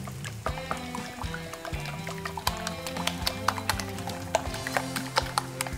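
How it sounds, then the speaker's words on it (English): Eggs being whisked with cream in a bowl: a quick, irregular run of light clinking and tapping taps that grows busier, close up over a faint background hum, with no speech. "give it a good whisk."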